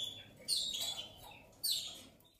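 Canaries of prized colour varieties chirping up close, two quick bright bursts of high twittering about a second apart over a quiet room background, no talk.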